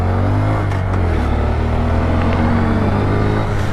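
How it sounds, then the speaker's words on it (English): A 2022 Honda Grom motorcycle engine, showing an unusual noise in fourth and fifth gear, runs loud and close with a steady droning rumble throughout. "a little concerned about that engine noise. It's only during fourth and fifth gear"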